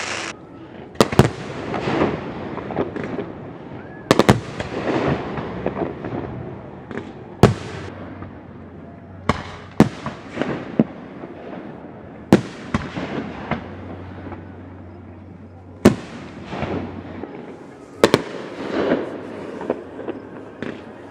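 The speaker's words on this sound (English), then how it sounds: "How's that for a firework?" Fireworks bursting repeatedly, sharp loud booms at irregular intervals with crackling and rumbling decay between them, heard outdoors with no talking.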